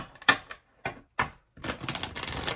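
A deck of tarot cards is shuffled close by: a few sharp separate snaps, then a continuous papery riffling flutter.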